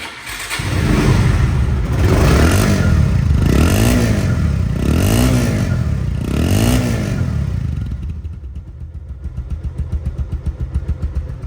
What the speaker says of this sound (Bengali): এই অবস্থায় বাইকটি সাউন্ড কোয়ালিটি শোনাবো